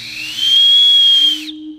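A handmade clay whistle gives one steady, bright, sustained note for about a second, sliding in and then cutting off, loud and close with a faint lower hum underneath.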